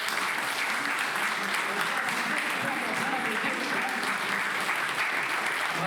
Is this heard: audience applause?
yes